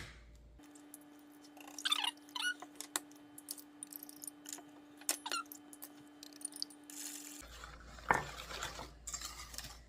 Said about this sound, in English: I'm going to whisk it up a little bit